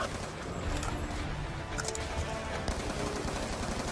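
Gunfire in the video game Call of Duty Black Ops 2: a dense, continuous barrage of machine-gun bursts and shots, loud and steady for the whole stretch, with sharper cracks standing out now and then.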